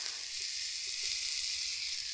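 Ginger paste fries in a pan of oil, giving a steady close hiss of sizzling with a few faint spattering pops scattered through it, and no voices.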